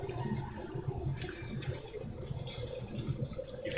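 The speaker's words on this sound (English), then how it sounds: "You can hear the running water." Steady running water flowing in a snowy outdoor setting, a continuous broadband rush with a rumbling low end, moderately loud and constant throughout with no talk over it.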